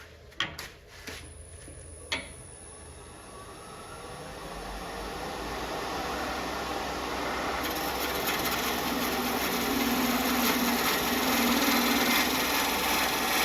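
Hand tool taking a peeling cut on a wood turning on a lathe: a few sharp knocks at first, then a steady whirring, shaving hiss that slowly builds louder and holds.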